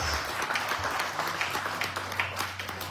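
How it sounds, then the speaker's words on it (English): Audience members at a keynote presentation by a student minister applaud, a lively sustained round of clapping with a low hum running underneath. "Let's give Sister Stacy a round of applause."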